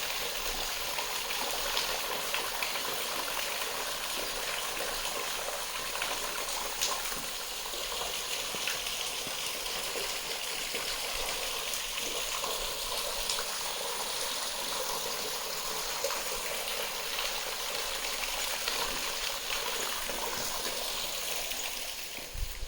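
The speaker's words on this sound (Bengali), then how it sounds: "এখান দিয়ে জল পড়ছে দেখতে পাচ্ছি" A natural waterfall in Shillong, with water falling down rocks in a steady, dense rush that holds at an even level throughout, with no voices.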